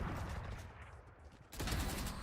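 Gunfire in the shooter game Valorant, a dense burst of rapid shots continuing through the moment with a brief dip in the middle before resuming loud and close, with no talk over it.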